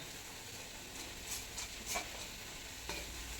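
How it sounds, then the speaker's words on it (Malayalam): Grated coconut and ripe jackfruit being stirred in ghee in a pan, a faint soft hiss and sizzle with a few light scraping strokes of the spoon and no voices. "അതെല്ലാം കൂടെ ഒന്ന് മിക്സ് ചെയ്ത് കൊടുക്കാം നെയ്യിലൊക്കെ കിടന്ന തേങ്ങ തേങ്ങയും നമ്മുടെ ചക്കപ്പഴം എല്ലാം കൂടെ ഒന്ന് മിക്സ് ആവും"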